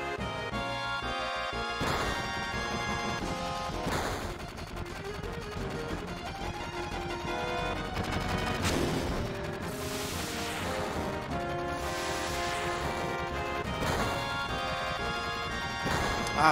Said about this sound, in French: vous entendez au-dessus de nous? Des tirs?